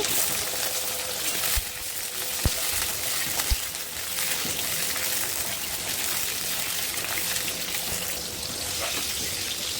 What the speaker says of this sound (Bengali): এরপরে আমি এর মধ্যে বেগুনগুলো দিয়ে দিচ্ছি, দিয়ে ভালো করে বেগুনগুলো ভেজে নেব।